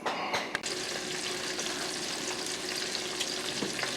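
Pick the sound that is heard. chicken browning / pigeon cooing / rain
chicken browning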